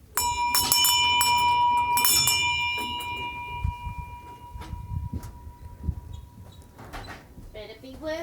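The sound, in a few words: ringing a bell to call someone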